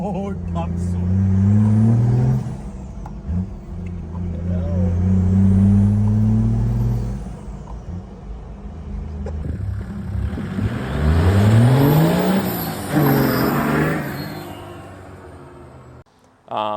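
A car on its first drive after intercooler piping work accelerates hard, its engine note climbing loudly and close through the gears, then dropping away abruptly at the end.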